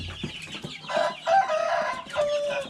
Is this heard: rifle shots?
no